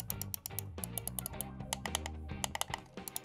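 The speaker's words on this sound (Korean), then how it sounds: "자, 이 녀석의 마우스 소리 한번 들려드릴게요." A Logitech M570 mouse gives rapid, crisp button clicks, sharp and fairly loud, repeated in quick irregular bursts over a low hum.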